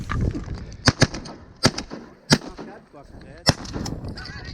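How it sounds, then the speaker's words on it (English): Several loud shotgun blasts during a late-season goose hunt on ice, sharp close bangs spread across a few seconds, with geese honking and people talking in between. "Good shot, Jake."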